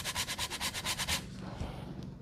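Frozen ginger is grated in a quick run of about ten rapid, even scraping strokes, close and crisp, which then stop and leave a quiet room.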